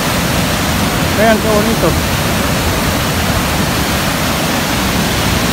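Water of the Niagara River rushes close by near the falls, a steady loud broadband roar running through the whole stretch, with someone speaking briefly over it.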